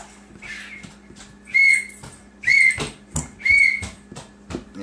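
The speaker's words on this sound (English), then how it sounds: "she found a whistle" A child blows a toy whistle found at grandma's house in a short series of shrill, piercing toots, with several loud bursts close by and household clatter in between.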